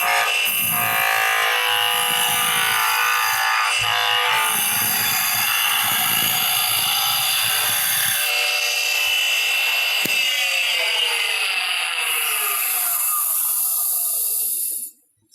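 A skew chisel cuts into spinning wood on a lathe, rounding off the piece: a steady, loud scraping and whirring hiss runs throughout, with rough rubbing texture, then the cut eases and the lathe noise stops abruptly at the end.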